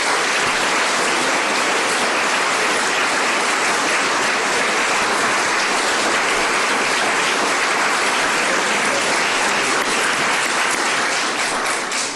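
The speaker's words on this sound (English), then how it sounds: "So let's give all of our finalists, winners, a big round of applause" Audience applause at an awards event honoring finalists and winners, including the creator of an edge AI navigation assistant for visually impaired users; steady, dense clapping from a large crowd holds throughout without a break.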